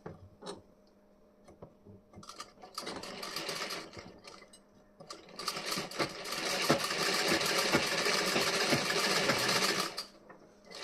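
An electric sewing machine stitches the front panel of a blouse in bursts of fast, even mechanical whirring, starting and stopping before a long continuous run near the end, close and clear with no voices.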